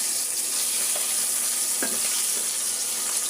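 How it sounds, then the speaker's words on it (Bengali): Singi fish frying lightly in hot oil, giving a steady close sizzle with faint crackles throughout and no voices. "আমার শিং মাছগুলো হালকা করে ভাজা হয়ে গেছে"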